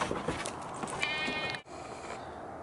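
Goats bleating close by outdoors on a cold early morning, a few wavering cries in quick succession over steady background noise.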